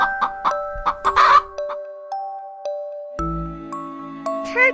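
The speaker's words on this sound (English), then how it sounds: "Hen." A hen gives several short, close clucks in quick bursts near the start, set against a light chiming tune that carries on after the clucking stops.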